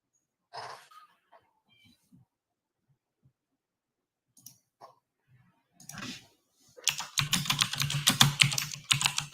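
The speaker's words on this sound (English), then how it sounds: "Beating that keyboard up." Hard, fast typing on a computer keyboard kicks in near the end as a dense run of loud clicks, after sparse soft clicks and a brief noise at the start.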